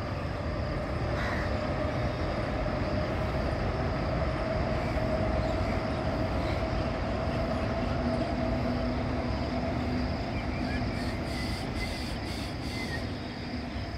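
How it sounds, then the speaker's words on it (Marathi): A Mumbai–Pune local train runs across a railway bridge near the Mula–Mutha river confluence in Pune, giving a steady, continuous rumble and rattle that holds evenly throughout, with faint distant tonal hums layered over it and no talking. "ते पहा, रेल्वेचा जो ब्रिज आहे त्याच्यामधनं लोकल चाललेली आहे"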